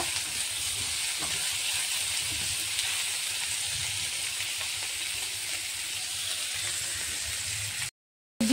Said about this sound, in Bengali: বোনলেস চিকেনটা এর মধ্যে দিলাম।